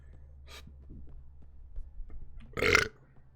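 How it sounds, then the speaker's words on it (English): A single loud, close burp from a Mass Effect: Andromeda game character rises abruptly near the end after quiet low background hum, with a faint short breath earlier. "Ooh, that felt good. That was a good burp."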